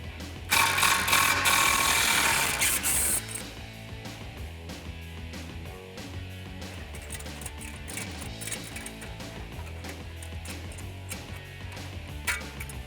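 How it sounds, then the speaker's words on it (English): Ratchet and 13mm socket loosening the exhaust tip bolt on a 2019-2020 RAM 1500 5.7L fitted with a Corsa Sport dual exhaust; rapid close clicking bursts, loudest in the first few seconds, then steady clatter. "So we're going to take this guy off with a 13mm socket."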